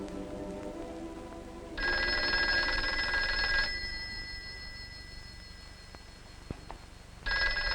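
An old-fashioned telephone bell rings in a quiet office, a loud electric ring lasting about two seconds, then a pause, then another ring starting near the end; no one speaks over it.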